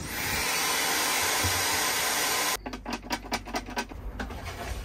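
A Titan wet vacuum sucking water from a narrowboat bilge, a loud steady motor roar with airy hiss that cuts off abruptly midway, followed by a series of quieter rhythmic gurgling slurps.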